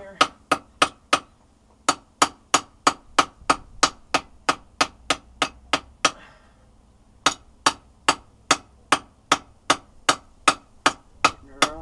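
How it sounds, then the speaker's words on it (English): Steady, evenly spaced ringing blows of a smaller hammer on hot metal at a newly set-up forge while rounding a hay hook, about two strikes per second, loud and close with one short pause. "Just a smaller hammer. Give her a little bit of rounding here."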